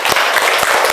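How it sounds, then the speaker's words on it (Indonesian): A group claps together loudly and densely in a room. The burst of applause is brief and fills the whole moment. "tepuk tangan untuk semuanya"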